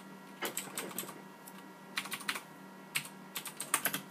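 Typing a server address on a computer keyboard, with quick bursts of key clicks in irregular clusters and short pauses, close and fairly quiet with no talking.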